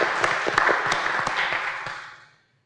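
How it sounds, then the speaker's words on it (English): An audience at a community Q&A event applauds, a moderate wash of clapping with a few sharper individual claps standing out, heard close and fading away within a couple of seconds. "we might give you a round of applause now"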